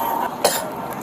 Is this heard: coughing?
yes